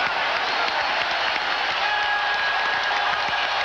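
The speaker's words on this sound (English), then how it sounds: "Listen to this crowd at the Palace" Arena crowd at the Palace during a 1991 Celtics–Pistons playoff game, a loud sustained roar of cheering and applause filling the whole stretch without letting up.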